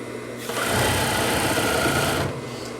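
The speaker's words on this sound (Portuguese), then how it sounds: "Ao mesmo tempo que eu vou costurando, vou acertando o tecido e puxando o elástico para frente." A sewing machine stitches fabric with elastic on a women's pajama set. The motor starts, holds a fast, steady, whirring run for nearly two seconds, then stops, close up and alone.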